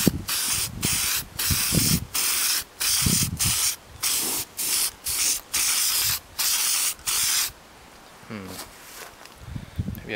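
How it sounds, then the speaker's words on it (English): Chrome aluminum spray enamel hisses from an aerosol can in about ten short, evenly spaced bursts while an old satellite dish is painted to make a parabolic reflector. A loud, close spray with a brief quieter stretch near the end. "I'm using this chrome aluminum spray enamel that I found somewhere"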